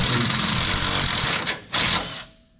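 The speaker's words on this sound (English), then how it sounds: "He's taking that bolt out so we can drop the hanger down." A power tool removes an exhaust hanger bracket bolt under a diesel Ford F-350 pickup, giving a loud, close, harsh buzzing burst that briefly drops off, then returns before cutting out.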